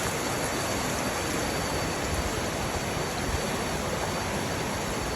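Flowing water near a waterfall, a dense, steady rushing roar that stays even and continuous throughout, with no voices.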